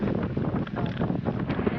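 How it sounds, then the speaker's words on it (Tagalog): A steady breeze buffets the microphone outdoors in a continuous low rumble, close and fairly loud, with no clear voices over it. "Ang sarap dito kasi mahangin."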